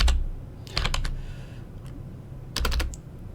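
Typing on a computer keyboard, two quick clusters of crisp, close key clicks separated by a pause, over a low background hum.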